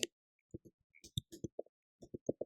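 A name is typed on a computer keyboard in light, close clicks that come in irregular clusters, quiet and with no voice.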